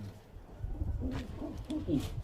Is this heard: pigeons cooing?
yes